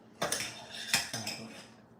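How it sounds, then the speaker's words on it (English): Cheesecake batter stirred with a metal utensil in a bowl: three or four close scraping, clinking strokes spaced across two seconds, each a bright burst over a quiet room. "Stir, stir, stir."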